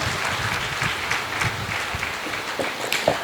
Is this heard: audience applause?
yes